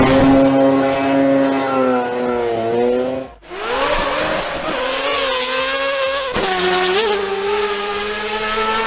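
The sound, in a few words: Mazda RX-8 rotary engine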